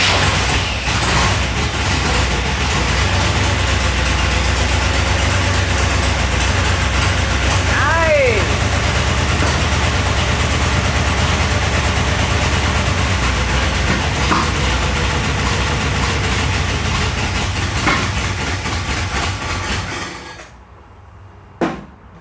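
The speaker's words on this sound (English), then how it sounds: "we're gonna get it fired up right now, or attempt to anyway" A Chevrolet El Camino project car with carbon buildup and low transmission fluid cranks and runs roughly, a loud, steady, rattling engine drone filling most of the time with voices talking over it before it cuts off near the end.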